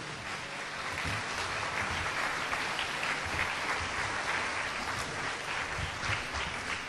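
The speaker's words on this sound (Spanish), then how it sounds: "Denle un aplauso a Jesucristo" Sustained applause from a large crowd, steady and dense clapping filling the whole stretch without pause.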